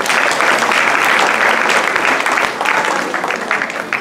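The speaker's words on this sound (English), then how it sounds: "Please give them a big round of applause" A room full of guests at a Hindu puja and homam event claps steadily for the organizers, dense applause that thins slightly toward the end.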